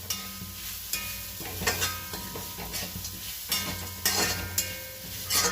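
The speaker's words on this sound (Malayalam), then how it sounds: "തേങ്ങ നന്നായിട്ട് വറുത്ത് കിട്ടണം" Grated coconut fries with a steady sizzle, with repeated scrapes and clinks of a spatula stirring in a pan, close by, no voices.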